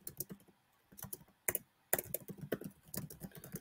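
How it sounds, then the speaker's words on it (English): Computer keyboard typing in bursts of quick, close key clicks with short pauses between, crisp and fairly quiet, no voices. "So let me type this out."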